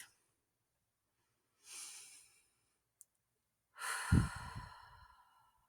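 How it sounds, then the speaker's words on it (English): A person takes slow, deep breaths during a calm relaxation exercise: a soft inhale, a tiny click, then a longer, louder exhale, with quiet stillness between. "We're just going to do this now. We're going to take a minute and breathe."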